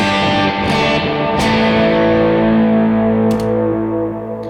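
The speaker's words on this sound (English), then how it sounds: "the gain comes on at measure 3, goes way up, and our reverb and delay shut off" Electric guitar sounds through gain, reverb and delay effects that switch on and off, with a continuous distorted tone that shifts in character partway through and sustains loudly for several seconds.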